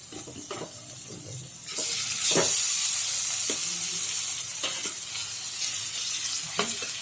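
Tandoori chicken sizzles and fries in a pan with a steady hiss, punctuated by several sharp clinks and scrapes of a utensil stirring, fairly close and without any talking.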